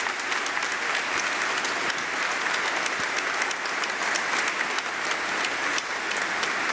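A congregation applauds at a bishop's ordination in a church, sustained and even clapping from a large crowd heard at moderate distance, steady throughout.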